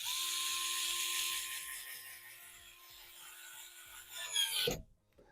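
A WORX WX242 cordless screwdriver drives a 50 mm screw into the end grain of wood, giving a steady close whining motor rasp that strains for several seconds, then cuts off abruptly with a brief clunk near the end.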